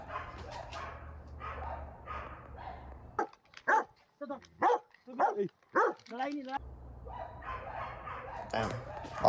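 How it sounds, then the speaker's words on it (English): Several dogs bark in a quick burst of sharp, separate woofs at moderate distance, standing out between stretches of other background noise. "dogs barking and stuff"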